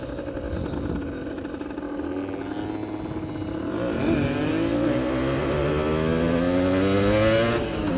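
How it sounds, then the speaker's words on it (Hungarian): A motorcycle ridden on a public road on a motovlog ride with a friend: steady, loud engine drone close to the microphone, pitch rising and falling through gear changes as it accelerates, with strong wind rush throughout and no talk. "Kijöttem haverommal egyet motorozni."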